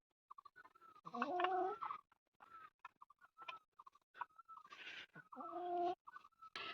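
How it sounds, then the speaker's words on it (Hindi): Two backyard hens at a hillside home cluck in short, irregular bursts, with soft pecking ticks and clucks between the louder calls, close by with no talking. "तो हमारी मुर्गियाँ रहती हैं यहाँ।"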